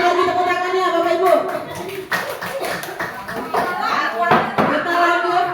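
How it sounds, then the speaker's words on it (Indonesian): An indoor audience gives a round of applause. Sharp clap hits punctuate a busy background of voices and tonal sound, and someone talks throughout. "Sekali lagi tepuk tangannya Bapak Ibu."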